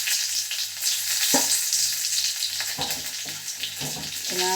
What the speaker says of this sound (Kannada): ಒಗ್ಗರಣೆ ಹಾಕ್ತಾಯಿದ್ದೀನಿ ಚಟ್ನಿಗೆ.